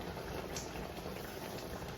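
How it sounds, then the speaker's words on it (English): Baked beans with andouille sausage simmer in a pot, a soft, steady bubbling hiss that stays low and constant, with no voices over it. "I'm going to let this simmer into that flavor of that sausage"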